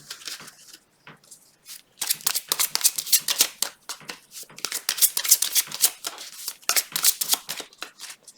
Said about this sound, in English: I always pre-shuffle, but I like to shuffle a lot more on camera as well